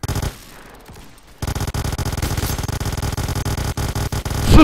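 Rapid, loud bursts of automatic gunfire from a gun in the game S.T.A.L.K.E.R. Misery, sustained and rhythmic, with a short quiet gap near the start.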